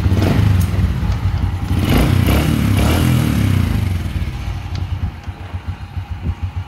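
Motorcycle engine with a freshly replaced carburetor throttle part, idling loud and close with a steady low rumble and a couple of brief blips, then settling into a smooth even idle.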